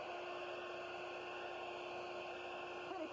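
A handheld hair dryer runs on its cool setting pointed toward the ceiling, a steady even whirring hum with a constant tone, moderately quiet and unbroken, with no voices.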